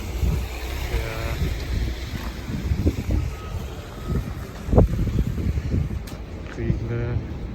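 Strong wind roars and buffets the microphone in a New York snowstorm, a constant rumbling gust with louder surges, while a person talks over it.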